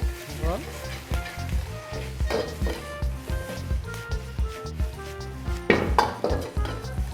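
Cut mixed vegetables frying in a pan or wok for young chow fried rice, with a hiss of sizzling broken by repeated metal clinks and scrapes of a utensil against the pan, close and lively, a voice talking over it.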